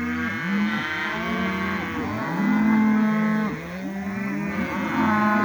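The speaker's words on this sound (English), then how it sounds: "And the cows are just hollering." Several cows moo loudly and repeatedly, their long, overlapping calls filling an enclosed space close by with no other sounds.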